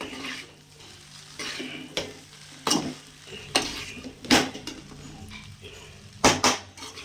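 Pasta with egg and capsicum stirred in a pan, a utensil scraping and knocking against the metal in irregular clattering strokes over a soft background sizzle, with no talking.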